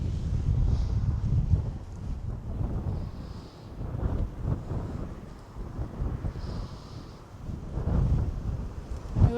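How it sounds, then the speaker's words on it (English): Strong cold wind blows across open ground beside a racehorse training track, a low rumbling gusty roar that buffets the microphone, rising and falling in waves with no talk. "it's very windy out there, so I don't know what the audio will be like"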